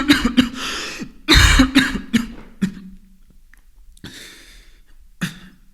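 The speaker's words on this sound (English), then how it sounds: "cough out of their mouth 10 times if that's a yes" Repeated coughs from a nearby person in several sharp bursts, some tightly grouped and others spaced apart, with short quiet gaps between them and no talking.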